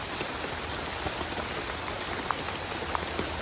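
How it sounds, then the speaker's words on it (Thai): Steady rain falls through a jungle camp where soldiers are cooking, with scattered drops ticking on a surface over a dense, even hiss and no voices. "เอ้ฝนตกแล้ว"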